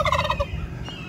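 Turkeys kept in a temporary homestead pen give a quick burst of rapid, bubbling gobbles, close and fairly loud, then fall quiet.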